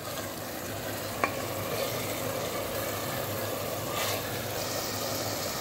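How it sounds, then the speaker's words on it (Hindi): Spice masala is stir-fried in a pan for a home-style chicken curry, making a soft, continuous frying hiss with a sharp utensil tap near the start and quiet stirring scrapes. "अब ये भूनेंगे, देखिए कितना बढ़िया भून रहा है।"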